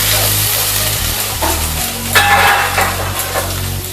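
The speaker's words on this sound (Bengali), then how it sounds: "দিয়ে ভালোভাবে মশলাটাকে কষিয়ে নিলাম।" Chilli, cumin and turmeric powder masala sautéing in a pan, a continuous sizzle with spoon scrapes and a few metallic clinks against the pan.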